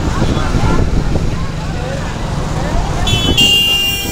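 A bus on a busy road, with a steady roar of engine and traffic throughout and a horn tooting near the end, loud and close while voices talk over it.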